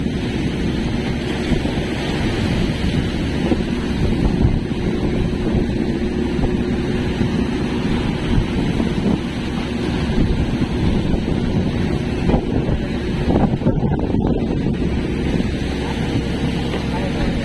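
Strong wind roars over a small fishing boat at sea amid big waves, a constant heavy rumble with a droning engine-like low hum, buffeting steadily throughout while voices talk intermittently underneath.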